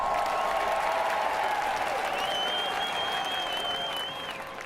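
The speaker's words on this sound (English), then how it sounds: "let's give us a round of applause" Sustained applause from a crowd, dense and steady, with a whistle rising briefly above it before the clapping begins to fade.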